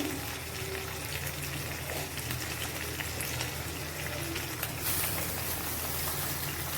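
Morla fish paturi wrapped in banana leaf sizzles in a kadai, an even rain-like hiss and crackle that stays dense and steady throughout, close and moderately loud.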